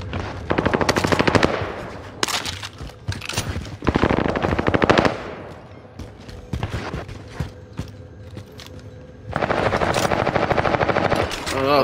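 Automatic gunfire from the video game Call of Duty Warzone, Rebirth Island: repeated loud bursts of rapid shots with short gaps between them, set against a busy game soundscape.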